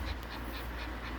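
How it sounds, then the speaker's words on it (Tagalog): A chubby pet dog pants steadily indoors on a hot day, quick rhythmic breaths that are soft and close over a faint background hiss. "Lintian, hinihingal ka ng katabaan mo"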